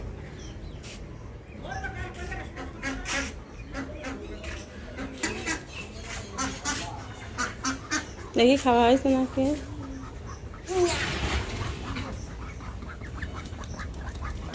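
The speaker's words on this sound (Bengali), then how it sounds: "আরো হাঁস তো বাইরে আছে" Ducks quack outdoors on a rainy day in a few short bursts, mixed in with nearby people talking over them.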